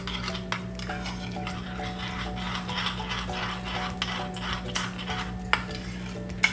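A skin face mask mixture being stirred steadily in a bowl, a continuous close scraping and swishing with occasional sharp clinks of the spoon against the side, over a faint low hum.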